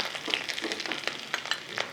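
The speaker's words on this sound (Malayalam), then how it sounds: "ഇതിലേക്ക് കടുക് താളിച്ചൊഴിക്കാം" Mustard seeds spluttering in hot butter for tempering, a close, continuous sizzle with sharp little pops and crackles scattered throughout.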